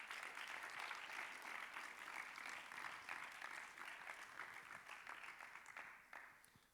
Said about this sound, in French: je vous propose déjà de les applaudir une fois encore